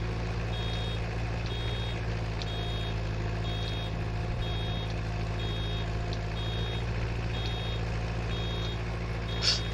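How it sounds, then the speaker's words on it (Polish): Regular warning beeps from a Ursus C360 tractor in a Polish farming video game, steady repeated pips over a constant low engine drone, with no talk. "Tutaj pika, jeszcze trochę dobiję."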